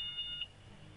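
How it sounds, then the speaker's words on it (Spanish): A laser volumetric intrusion alarm gives a thin, high electronic tone that holds briefly and then cuts off, heard against faint room noise. "Esa es la alarma del láser que dejamos preparada."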